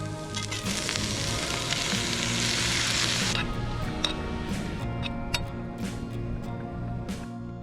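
Food simmers in coconut oil in a pan at a campsite, a steady loud sizzle for the first few seconds that settles into softer crackling, with scattered sharp ticks and pops.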